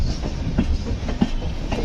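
Gitanjali Express running slowly on the Nagpur–Howrah route through central India, with a steady rumble and rhythmic wheel clatter heard from inside the train, fairly close and continuous.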